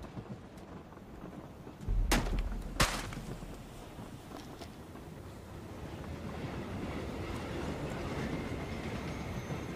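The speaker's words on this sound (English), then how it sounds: "this is the other train. I'm gonna see if you can jump on it while it's moving" A train moves on the Vikendi map of the video game PUBG, its low rumble running steadily after two sharp, loud bangs near the start.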